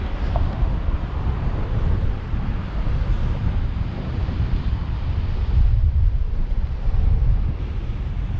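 Waves washing onto a cold Icelandic shore strewn with seaweed, a loud continuous rushing roar heavily buffeted by wind on the microphone, swelling slightly toward the end, with no voices.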